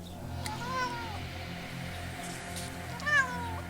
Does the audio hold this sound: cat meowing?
yes